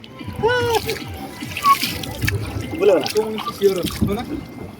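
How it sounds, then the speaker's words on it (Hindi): Water splashing and dribbling at an outdoor picnic, with several splashes and trickles mixed under lively voices, including a child's, talking and calling out close by. "ପାଣି କାଇଁ ମାରୁଛୁ ରେ"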